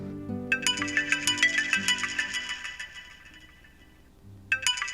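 An electronic phone ringtone plays a repeating melodic pattern for several seconds, pauses briefly, then starts again, loud and close with no talking.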